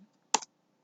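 A single short, crisp click of a computer keyboard key, quiet and close, alone in near silence.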